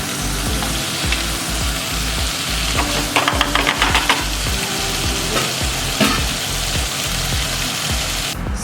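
Onions and capsicums saute in a pan with a loud, dense, continuous sizzle. A run of quick scraping stirs comes partway through, with a few sharper clanks, all close up and without speech.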